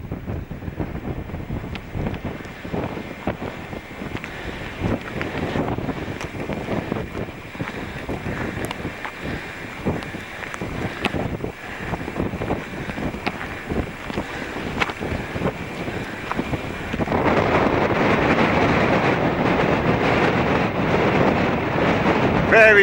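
Strong gusting wind buffets the microphone on a mountainside near the White Corries ski lift in Glen Coe, a loud, rumbling roar with uneven gusts that builds into a denser, steadier blast near the end.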